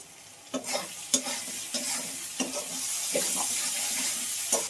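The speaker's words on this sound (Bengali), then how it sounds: "মাছের তেলটা একটু ভাজা হয়" Fish oil sizzles steadily in a pan with salt and turmeric while a spoon or spatula scrapes and stirs in a few sharp knocks; no talking.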